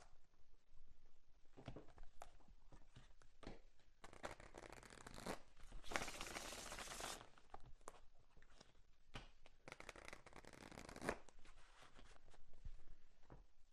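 Tarot cards are shuffled by hand close by, a steady papery riffle and patter with a louder burst of shuffling partway through, no talking.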